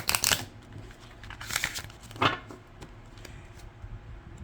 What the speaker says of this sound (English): You know I like to riffle shuffle.